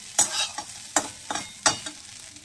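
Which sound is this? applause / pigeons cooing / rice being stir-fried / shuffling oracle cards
rice being stir-fried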